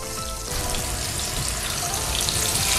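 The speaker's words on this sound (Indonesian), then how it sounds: "Kita nak goreng salmon ni dengan bawang putih." Salmon and garlic frying in hot oil in a home kitchen, giving a steady, close broadband sizzle that gets louder after a brief start and keeps going without any talk.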